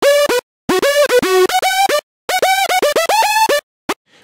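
Two layered synthesizer presets, one with distortion, play a quick staccato melody together, bright clipped notes in short bursts separated by brief silences.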